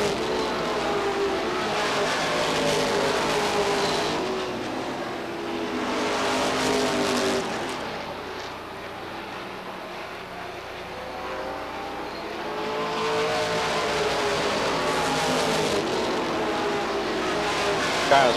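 Stock race cars lapping at Beech Ridge Motor Speedway in 1992 weekly racing, engines roaring loudly in waves as the pack passes, easing briefly then swelling again, with an announcer's voice running over the din.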